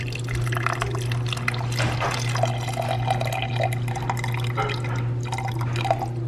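Drained liquid from making mixed peel being poured back into a saucepan, a soft trickling and dripping over a steady low hum in a kitchen, continuous and close with no speech.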